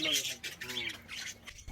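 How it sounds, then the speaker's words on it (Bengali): Birds squawk and chirp inside a village bird house, a dense overlapping chorus of high calls that stays loud and close for the whole short stretch, with a brief lull near the end. "পাখির কিচিরমিচির শব্দে থামলাম"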